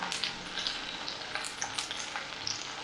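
About a dozen chopped red shallots sauté in a pan with a close, steady sizzle, lightly crackling and popping throughout, with no voices.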